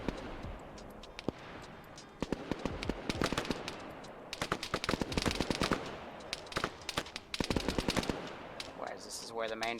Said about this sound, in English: Whereas this is where the main firefight is.